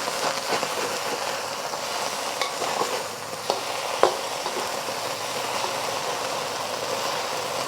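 Pork searing and stir frying in a wok for Shanghai fried noodles, a continuous close sizzle with occasional scraping and pushing sounds.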